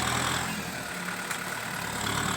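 A Kubota M6040 tractor pushing a pile of soil runs with a steady, close engine drone and a constant low rumble. The sound is loud and unbroken, with no voices.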